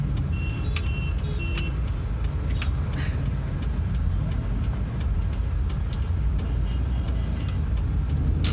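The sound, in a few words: Hyundai i10 first-gen car engine while driving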